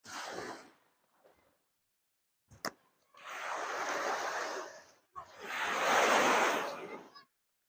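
Waves surging in bursts on the Panglemah coast shore in Tanjung village, Sumenep, two long broad washes after a brief earlier swell, fairly close and moderately loud with no talk over them.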